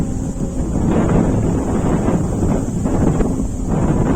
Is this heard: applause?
no